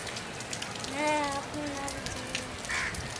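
Rain falls outdoors in a steady, even patter on surfaces, with a brief voice rising over it partway through.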